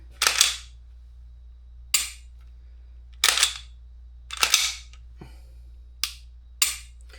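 Handling a Glock pistol fitted with a Powder River Echelon spring kit: seven sharp metallic clicks and snaps of slide and trigger work, spaced irregularly, close and fairly loud over a low steady hum.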